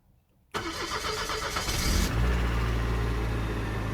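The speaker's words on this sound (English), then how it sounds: "and the car starts." A Buick fitted with a new ignition switch cranks and fires up after a brief silence, the engine catching within a second and settling into a steady, loud idle with a low rumble.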